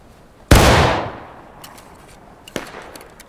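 Musket volley in War of Rights, an American Civil War skirmish training drill: a single loud, sharp blast that decays over about a second, followed by scattered fainter pops and a smaller second report.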